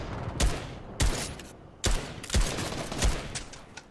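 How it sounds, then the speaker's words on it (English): Gunfire rings out in a squad match of an online shooter video game. Several sharp, loud bursts of shots arrive about every half second to a second, each trailing into a reverberant tail, with no speech over them. "Oh, now there's more shots."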